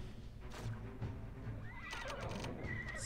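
Horses neigh and whinny in the Art of Conquest strategy game, with a shrill call rising near the end over a steady game backdrop and faint hoof clatter.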